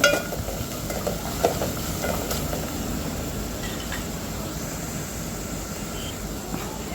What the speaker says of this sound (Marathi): आता याला एकदा परत परतून घ्यायचं आपल्याला